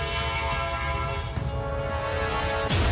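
A loud, sustained train horn blares over the rumble of a passing train at a truck accident, with a sharp burst of noise right at the end.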